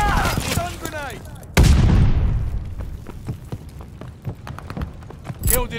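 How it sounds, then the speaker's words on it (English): A stun grenade in Call of Duty: Vanguard goes off in a single loud, sharp bang with a long fading ring, amid game voices, ambient noise and scattered clicks and footsteps. "Stun grenade."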